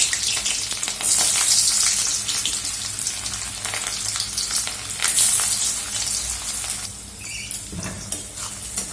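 Chopped onions fry in hot oil in a kadai, a loud, continuous sizzle and crackle with bursts of stirring scrapes and spattering throughout.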